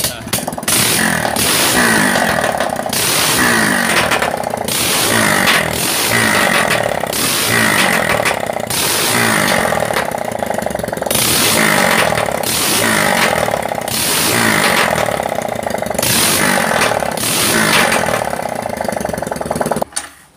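A smoking motorcycle engine with a valve problem runs steadily throughout, its throttle blipped in repeated revs that swell and fall in a loud, close, rhythmic drone, cutting off abruptly at the end.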